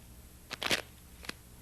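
A deck of playing cards gets shuffled during a magic trick: a brief riffle of crisp paper flutters close by, then a single short snap, with no talking.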